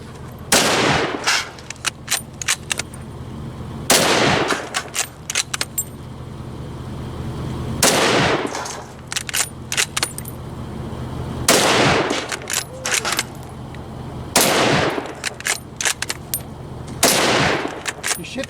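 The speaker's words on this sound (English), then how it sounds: "10 rounds, fire away, fire at will" A scout rifle fired in repeated sharp, loud reports, shots coming in spaced bursts with metallic bolt handling and clatter between them, close by at an outdoor range.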